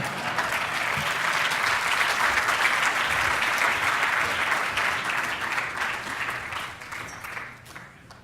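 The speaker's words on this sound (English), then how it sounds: "And you can all clap and give Dan a standing ovation coming in." A large conference audience at the ASU GSV Summit stands and applauds in a sustained standing ovation: loud, thick clapping that holds steady for several seconds, then gradually tapers off.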